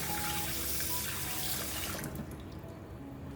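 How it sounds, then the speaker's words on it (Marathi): Soaked chana dal is rinsed under a running tap. Water gushes loud and close for about two seconds, then the flow stops and quieter trickling and drips follow. "चणा डाळ आहे, 3 तास भिजत ठेवली होती आणि आता मी धुते ती."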